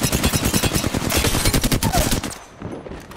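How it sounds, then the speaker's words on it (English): Rapid video game gunfire in a first-person shooter rattles off in dense, loud bursts for about two seconds, then cuts off into a quieter, distant background. "I'm getting shot at."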